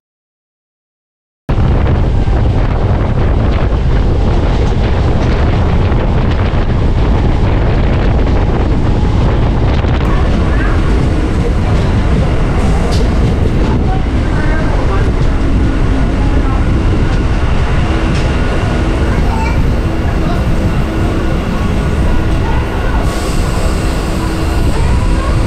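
A Sealdah–Gede local train running toward the border station makes a loud, constant roar and rumble with heavy wind buffeting the mic. It starts abruptly after a moment of silence and keeps going without a break.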